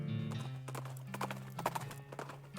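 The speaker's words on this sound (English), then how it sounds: "Trent, this is my horse, Squirrely D." Horse hooves clip-clop in steady rhythm in the West of Loathing video game, with a short whinny and background game music running underneath.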